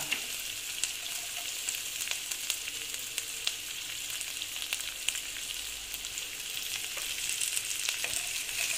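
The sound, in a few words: onion and ginger frying in a pan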